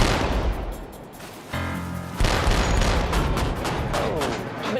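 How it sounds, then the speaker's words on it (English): A modern warship's deck gun firing at a floating target during a live-fire exercise, booming in loud repeated reports over a heavy rumbling backdrop. Faint voices may sit under the blasts. "The gun is hitting its mark, but the killer tomato is a resilient target."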